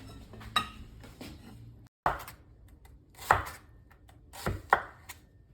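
A knife chops onion on a cutting board with about five sharp, close thuds spaced roughly a second apart, and faint clinks of cookware sit between the strikes, with no talking.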